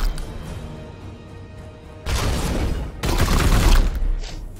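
Gunfire bursts in the tactical video game Warhammer 40,000: Chaos Gate Daemonhunters, two loud volleys of crackling shots following a quieter rumbling stretch, with no talk over them.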